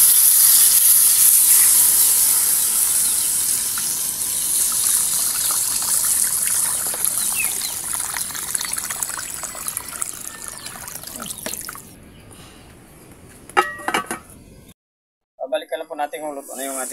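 Water gushes into a hot pan of spicy pork with a loud hissing rush that fades over several seconds, followed by quieter clatter and a brief spoken voice near the end.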